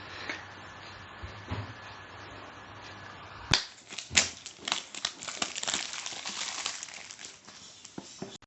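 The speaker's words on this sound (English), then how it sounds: "let's just quickly unwrap the box." A Realme 6 smartphone box being unwrapped up close, with a loud plastic tear and then a run of crinkling, crackling wrapper noises and small sharp snaps after a quieter stretch of handling.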